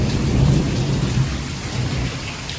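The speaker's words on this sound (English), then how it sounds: "a big rainstorm rolled in" A thunderstorm with heavy rain, a dense steady hiss of downpour with a low rolling rumble of thunder underneath, loud and continuous with no voices.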